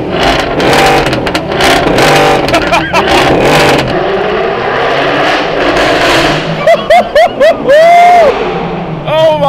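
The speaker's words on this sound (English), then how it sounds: "And this is stock exhaust." A Jaguar F-type S V8 with its stock exhaust revs hard nearby, roaring loudly, then several quick blips rise and fall in pitch before a final longer rev.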